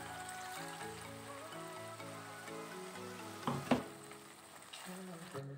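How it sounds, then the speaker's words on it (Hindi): Spice paste masala sizzles and crackles steadily in a pan, with a clattering burst of stirring midway and faint background music underneath. "अब इसको हम एक से दो मिनट भूनने देते हैं मसाले को"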